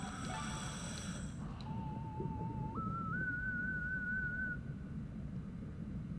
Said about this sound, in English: Can I whistle for you?